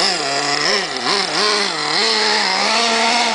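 A motorcycle engine revs up and down in close, uneven bursts, droning loudly and continuously as the rider works the throttle.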